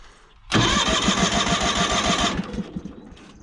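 A John Deere 318 lawn tractor engine cranks and catches with the choke pulled, running loud and steady close by for about two seconds before the revs drop away.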